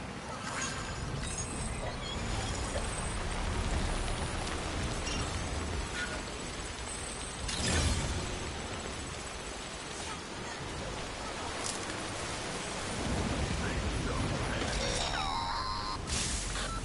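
Timefall rain in the video game Death Stranding, a steady broadband hiss of rainfall lasting throughout, with a few louder crackling surges and brief tonal game sounds over it.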